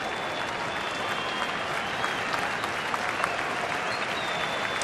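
A baseball stadium crowd applauds and cheers steadily for several seconds, a broad, even wash of clapping with a few louder whoops on top.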